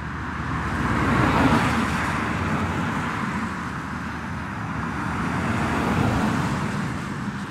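A Hyundai IONIQ Electric drives at 30 mph on a wet road as non-electric vehicles pass, making a continuous rushing swish of tyres and engines that swells and eases as each vehicle goes by.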